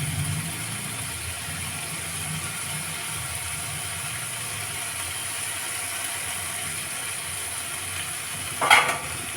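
Sweet corn frying in a pan, a constant close sizzle with low rumbling under it and a short clatter of stirring near the end.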